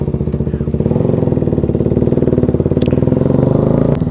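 Motorcycle engine already warmed up, running loud and close with a steady rapid pulsing throb that holds unchanged throughout, with no talk over it.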